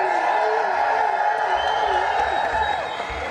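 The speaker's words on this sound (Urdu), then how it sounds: "ذرا اور زور سے تالیاں بجائیں" A studio audience claps and cheers, a dense, steady wash of applause that holds throughout, with voices mixed in.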